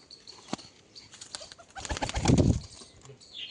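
A pigeon released from its home coop takes off in a close, loud burst of flapping wings that swells and fades, with a few faint coos.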